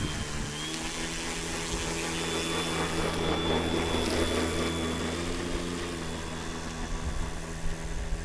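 A Hangar 9 Valiant electric RC model airplane taxis with a steady, even motor whine and hum that holds at a constant level throughout, with no talk over it.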